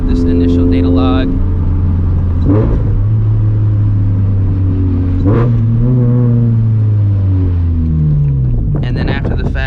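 A turbocharged Scion FR-S drives a lap around the block, its engine droning close from inside the cabin and rising in pitch through several gear pulls, with shifts heard as dips between climbs.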